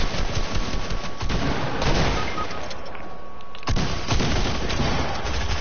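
Gunfire in a shooter video game, with dense, continuous bursts of shots rattling close and loud throughout, several sharper cracks standing out.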